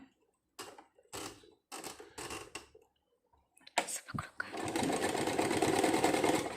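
Domestic sewing machine demonstrating a picot-style stitch, heard in several short stitching bursts separated by pauses, then running steadily and loudly for the last couple of seconds with a fast, even whir.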